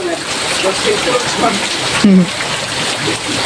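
Heavy rain pours outdoors as a dense, steady hiss and patter that fills the whole stretch, with voices speaking over it and one brief louder splash or thud partway through.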